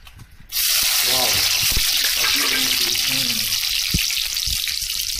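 Bathua saag greens hit hot oil with a sudden loud, steady sizzle that continues throughout, with faint clinks and a voice underneath.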